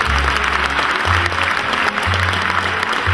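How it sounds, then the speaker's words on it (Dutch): An audience applauds steadily and loudly after a spring garden presentation, dense continuous clapping with a low droning hum underneath. "Applaus."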